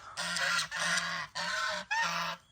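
Fowl at a morning chicken feeding give four loud, harsh, honking calls in a steady rhythm, each about half a second long, close by with no talk.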